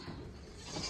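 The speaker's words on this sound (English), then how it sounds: "Hi chickens and goats." A goat bleats faintly in a cold farm pen shared with chickens during sub-zero winter weather, a brief wavering call under wind-like background noise.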